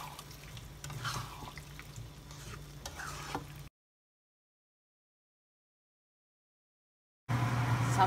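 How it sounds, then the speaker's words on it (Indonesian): Chilies stirred in a frying pan until wilted while making Indonesian sambal terasi, a soft sizzle with scraping stirs, cut off by a stretch of silence and resuming briefly louder at the end. "Lalu masukkan cabai. Lalu diaduk sampai layu."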